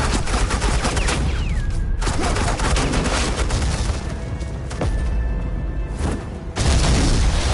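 Bursts of heavy suppressing gunfire in Batman: The Enemy Within, loud rapid volleys and booming shots that run almost continuously, with brief lulls before another close, intense barrage.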